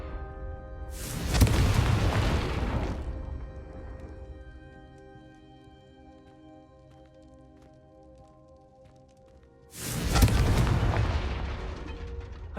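A Confringo spell blasting in the Hogwarts Legacy video game: two loud, booming fiery explosions several seconds apart, each with a rumbling decay, a faint musical score between them.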